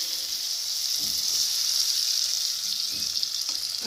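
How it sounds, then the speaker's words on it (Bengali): Beaten eggs are poured into a spice mixture in a hot pan and fry with a steady, close sizzle and hiss, with a few faint stirring scrapes underneath. "আর এখন মশলার মধ্যে এবার ডিমগুলো ঢেলে দেবো।"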